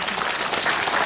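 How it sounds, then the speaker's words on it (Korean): Audience applause at a Yongsan Forum lecture in Korea, a brief, steady wash of many hands clapping filling the room at moderate loudness, with no voices standing out. "박수 한번 해주십시오."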